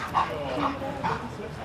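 A Ventura County Sheriff's K-9 search and rescue dog whimpers and gives short yips, three brief cries spaced across a second and a half, close by under a steady background hum.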